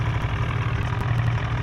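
A tractor engine in the Indian Tractor Vehicle Simulator video game idles with a steady low, rumbling drone, close and continuous with no break.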